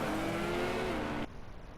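An HKS-branded race car from a driving video game roars past at close range, its engine note steady and loud before cutting off abruptly near the end, with no talk over it.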